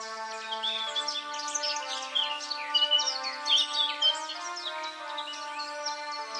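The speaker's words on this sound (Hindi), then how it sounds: "आदित्य, ये तोता कौन है और तुम इसे अपने साथ क्यों लाए हो?" A parrot gives a run of busy, chattering chirps and squawks over a sustained tonal drone, steady throughout with no voices.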